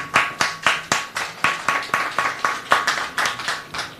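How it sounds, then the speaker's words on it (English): About a dozen crisp, evenly spaced claps ring out at a SACO dissemination workshop, sharp and close, in a steady rhythm. "I would like to applaud Masakhane Center for hosting this session"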